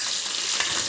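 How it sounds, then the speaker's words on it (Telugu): Onions and green chillies frying in a pan give a steady, close hiss and crackle of oil, even and continuous throughout with no talking. "ఫస్ట్ ఆనియన్స్, పచ్చిమిర్చి వేసుకొని వేంపుకోవాలి"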